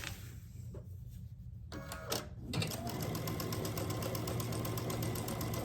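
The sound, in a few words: sewing machine stitching a quilt block seam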